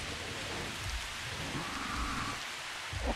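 Rain in the Jurassic World Evolution video game, a steady hiss of a downpour with low rumbling like distant thunder, continuous throughout with no talk.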